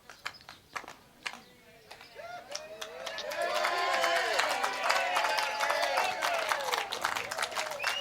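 Supporters in a crowd at a women's pairs lawn bowls final rise into sustained cheering and clapping, swelling after a few scattered claps and holding loud and dense to the end, with voices mixed through.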